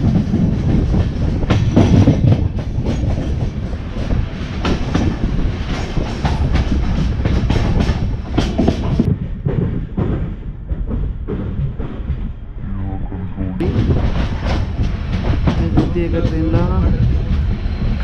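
The Konkan Railway Mandovi Express 01114 runs on the line near Kankavli, a loud, steady rumble from on board with continuous wheel clatter and rattling carriages that never lets up.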